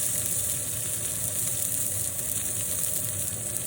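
Thick pork chops sear in a hot pan with a steady, close sizzle that stays even throughout, a low rumbling undertone running beneath, and no talking.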